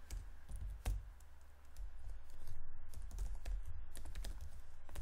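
Keys clatter on a computer keyboard in bursts of quick, close taps while someone writes C code, with a low background hum and no talking.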